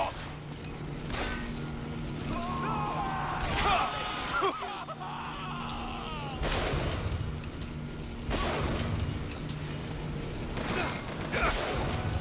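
Combat in BioShock Infinite: a grenade is tossed and bursts, followed by scattered gunfire and crashing impacts over a steady low mechanical drone, with sharp loud blasts spaced through the scene.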